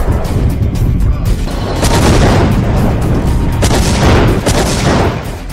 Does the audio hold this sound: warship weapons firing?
yes